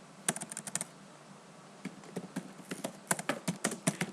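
Keys clatter on a computer keyboard in close, quick bursts of typing separated by short pauses, crisp and near with no voices over them.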